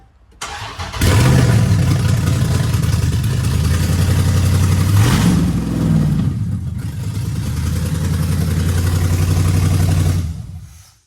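A Chrysler 300 with a swapped engine cranks and fires up for its first start, settling into a loud, steady idle with a brief rev midway before shutting off near the end.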